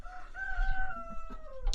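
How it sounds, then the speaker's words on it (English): An older hen near a roll-out nesting box gives a drawn-out, rising and falling vocal call, close and fairly clear, followed by a few short clucks at the end with no talking. "And there's a hen."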